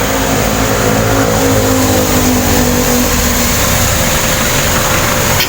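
A jeepney engine rumbles loudly and close against a constant hiss of heavy rain on the road, the motor droning steadily throughout.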